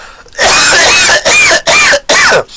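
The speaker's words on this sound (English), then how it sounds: "Now I'm coughing like an old man" A man coughs in four harsh, raspy bursts close up, each separated by brief silence, sounding like a throaty old-man cough.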